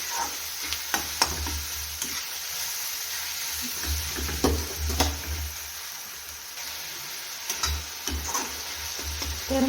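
Onion and tomato fry in oil in a pan with turmeric and curry leaves, giving a steady close sizzle with a few soft stirring scrapes and taps and a low hum underneath, with no voices.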